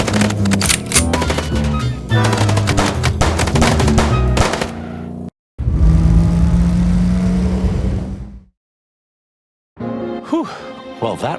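Rapid gunfire rattles during a car chase in the video game Chicken Police, dense close bursts with engine noise, a short gap, then another sustained burst and a final brief flurry after silence.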